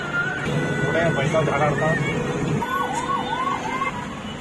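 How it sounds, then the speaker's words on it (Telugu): Ambulance stuck in heavy road traffic, its wailing siren rising and falling in a steady repeating sweep under traffic rumble, fairly close, with people talking over it. "అంబులెన్స్ వెళ్ళడానికి కూడా దారి లేదు"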